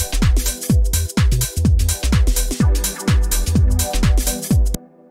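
A deep minimal house groove with a synth stab chord played with the saturator switched off, repeating punchy chord hits over a booming kick in a steady four-beat pattern, loud and close with no speech.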